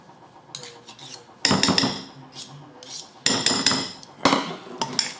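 Deviled egg filling with about a teaspoon of mustard mixed briskly in a bowl, with bursts of clinking and scraping utensil strokes against the dish coming in uneven clusters, close and fairly loud, with no talking.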